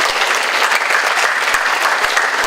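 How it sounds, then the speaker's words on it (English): Sustained audience applause at a middle school speech contest, a dense, steady wash of many hands clapping without a break, fairly loud and close, with no voices standing out. "please give them another round of applause"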